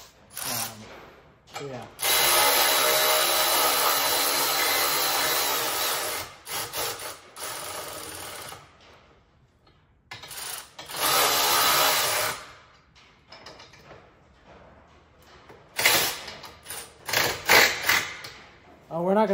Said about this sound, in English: we're gonna get these bolts tightened up here. Electric ratchet works great to do that